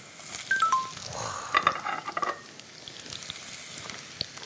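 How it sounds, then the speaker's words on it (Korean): Green onion goes into golden garlic frying in a pan, setting off a soft crackling sizzle with a few clinks and stirring scrapes, moderately close with no talking. "이 노릇노릇하게 구워진 이 마늘에다가 대파를 좀 넣어서 향을 더하고"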